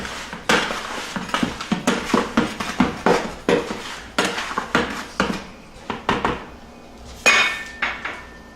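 A spatula scrapes and knocks repeatedly against a container while stirring homemade laundry powder, a close series of sharp, uneven clacks and scuffs with brief pauses.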